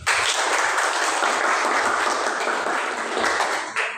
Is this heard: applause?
yes